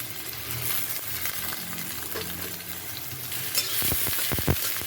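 Onions frying in a pan for a ladyfinger dish, a steady close sizzle that gives way near the end to several sharp spatula scrapes and knocks against the pan as they are stirred, with no one speaking.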